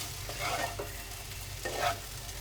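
Okra being stirred with spices and salt in a pan, a steady sizzle under a few soft scraping strokes of a spoon, close and moderately loud with no talk.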